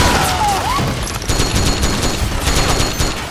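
Dense, rapid M4 rifle fire in Metal Gear Solid 4 sounds as a continuous loud rattle of shots that runs through the whole stretch without a break, close and harsh, with no talking over it.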